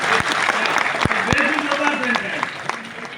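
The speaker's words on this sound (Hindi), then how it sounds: "ताली बजा के स्वागत करेंगे।" A crowd claps steadily and fairly loudly, a dense continuous patter with a few sharper individual claps standing out, at a Constitution event with a Union Minister for Law and Justice speaking.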